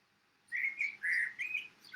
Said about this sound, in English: Can you hear those birds now outside?